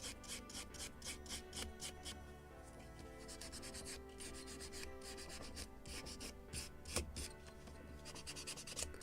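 Wood sanded by hand along the grain on the midship deck of a scale model of the 1776 gunboat Philadelphia, rapid rhythmic rasping strokes, close and fairly quiet, with a couple of louder scrapes.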